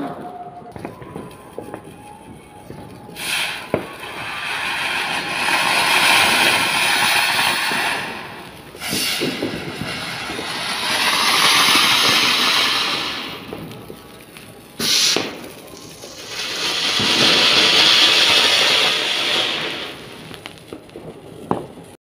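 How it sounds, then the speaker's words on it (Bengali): Sky rocket fireworks launched outdoors during a festival puja night, each rising with a long loud whooshing rush that swells and fades, several in succession, with faint voices in the background. "দেখো এই স্কাইল্যান্ডার ছাড়লো"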